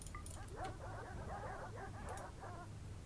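Dogs released in the RimWorld video game bark and yip in quick clusters, several short calls close together over a steady low background hum, with no talking.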